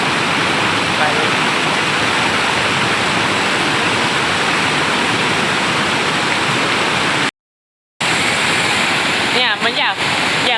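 Pak Khlong waterfall beside a campsite roars as a loud, steady rush of falling water, broken by a brief dropout near the end.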